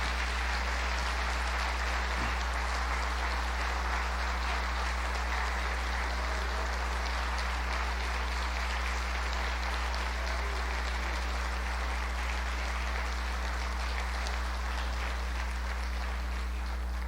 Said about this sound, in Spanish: yo quiero pedirles que les brindemos un fuerte aplauso a estos hermanos queridos